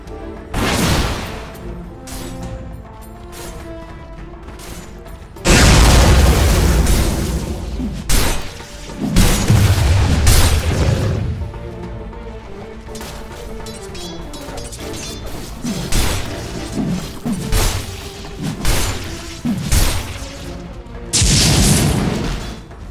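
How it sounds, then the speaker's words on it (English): Dota 2 battle around the Radiant middle tower under attack, with repeated loud booming impacts and crashing hits in bursts, heavy explosive thuds layered over ongoing game effects and music. "Radiant's middle tower is under attack."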